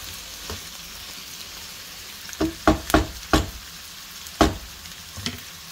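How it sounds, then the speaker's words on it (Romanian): Green beans go into a hot frying pan beside chicken drumsticks, a steady background sizzle broken by several sharp bursts of spitting and crackling as they land. "După care voi adăuga fasolea verde"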